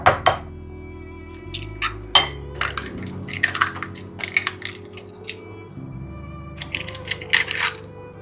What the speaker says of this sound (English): Now into the middle I'm going to drop in 4 eggs.